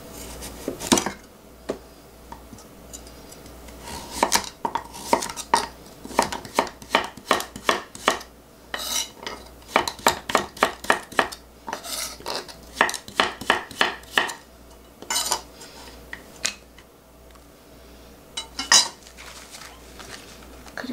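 Rapid knife chops on a cutting board slicing cabbage into finger-sized strips come in quick bursts with short pauses between, close and crisp, with no talking.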